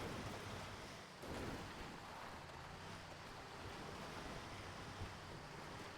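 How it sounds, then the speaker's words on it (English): Water waves wash and surge steadily in a video game scene, a continuous loud broadband rush with a brief dip just after the start and no voices. "Connor wants to get away from the sounds of the water now"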